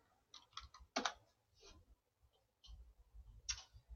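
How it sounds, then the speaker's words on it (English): Typing on a computer keyboard: a few faint, scattered key clicks in short clusters, quiet and close, with low background rumble between them. "then type in Screencastify"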